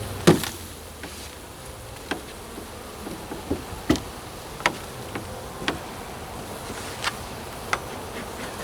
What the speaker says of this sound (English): But I hear bees inside.